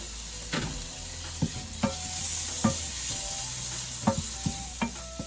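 Onions sautéing in a pan as tomato goes in, a continuous moderate sizzle broken by several sharp spatula taps and scrapes at irregular intervals.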